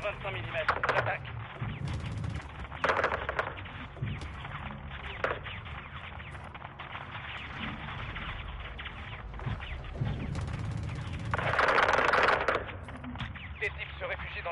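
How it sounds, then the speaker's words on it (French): Heavy 25 mm cannon fire in Modern Warfare 2 booms in repeated bursts with rumbling impacts, while voices talk over the combat din throughout. "Canon 25 mm, j'attaque."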